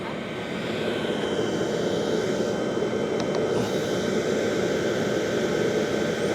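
A BougeRV diesel heater runs and blows hot air, making a loud, constant whooshing roar of fan and combustion that holds steady throughout.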